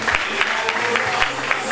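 An audience claps steadily at a school award ceremony in Sultangazi as a student is called to the stage, with sustained, fairly dense applause filling the hall.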